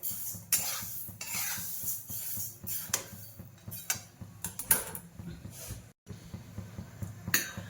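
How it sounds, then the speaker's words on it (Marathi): Coriander seeds stirred and tossed in a pan for a Maharashtrian spice masala, a steady scraping and rattling of a spoon against the metal with light crackling, close and continuous, no talking. "आपण आता धने भाजून घेऊया।"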